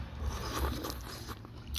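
Close, soft biting and crunching as someone chews and eats noodles at an outdoor camping spot, a quick run of wet mouth sounds with no talking.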